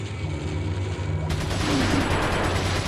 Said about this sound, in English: I just shot Ashley